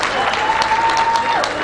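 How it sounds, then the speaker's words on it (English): Audience applause at a World AIDS Day launch event honoring the national TB ambassador, steady continuous clapping from a crowd filling the short moment, with a faint tone running through it. "Can you clap hands for our National TB Ambassador?"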